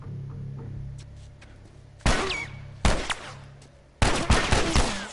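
Gunfire in The Last of Us Remastered, heard as three loud, sharp shots, each followed by a short ringing decay, against a low, steady ambient hum.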